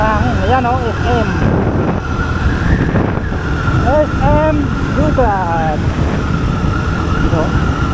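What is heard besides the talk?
strong wind while riding a Suzuki Gixxer motorcycle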